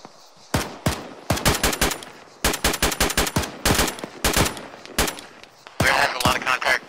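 Airsoft guns fire in bursts and single shots during a skirmish, sharp, close cracks in rapid clusters with short pauses between volleys.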